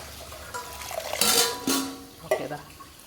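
Water is poured from a vessel over soaked rice for palappam batter, in a few short splashing gushes with pauses between them, fairly quiet and close.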